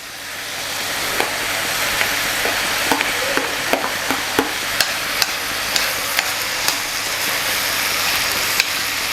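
A stew with chopped pieces of meat is stirred in a pot, frying and sizzling steadily while a spoon scrapes in short, repeated clicks against the sides, close and clear with no voices.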